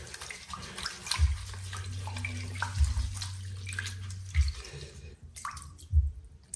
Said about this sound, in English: dip it in water, and then start swirling